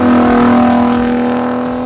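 A 2021 Ford F-150 Raptor engine with a reworked exhaust drones loud and close, a steady throaty rev that eases slightly toward the end, with no voices.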